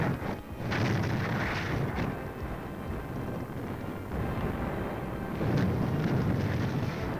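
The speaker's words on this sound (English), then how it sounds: "The troops finish the job with grenades and flamethrowers." Grenade blasts and flamethrowers in ground combat make a heavy, rumbling roar of explosions and bursts, with two louder surges near the start and end over a constant rushing background.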